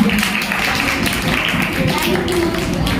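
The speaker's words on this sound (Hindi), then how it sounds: "हाँ रेखा का भी ताली, जोरदार तालियां।" An audience at a Jain temple event during Daslakshan Mahaparv claps under a woman's speech, with scattered, moderately close applause and taps mixed with talk.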